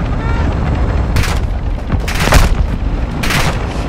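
Air strike explosions in the DMZ video game go off in three heavy booms about a second apart, sounding loud and close over dense, constant rumbling background noise.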